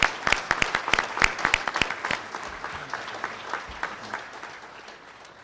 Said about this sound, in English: Let's give a round of applause for those even if they're not here.